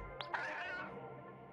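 A cat meows once in the video game Gato Roboto, a clear, drawn-out, rising-then-falling cry that follows two brief clicks and sits alone over quiet game ambience.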